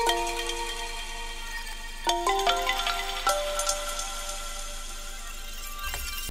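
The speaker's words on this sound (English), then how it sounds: "This is the bells down here." Synth bells in a colour bass track play a bright, ringing melody of sustained tonal notes, a cluster of quick struck chimes entering midway before the tones thin out and decay.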